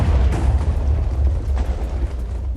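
Minecraft TNT cannon launching several TNT blocks at once, a loud continuous rumbling series of deep explosions and bursts close up, with no speech.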